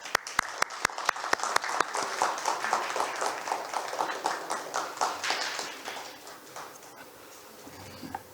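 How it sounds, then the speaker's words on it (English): Applause from a forum audience welcoming a speaker, a dense patter of clapping that swells and then gradually fades away toward the end. "Please welcome him with a round of applause."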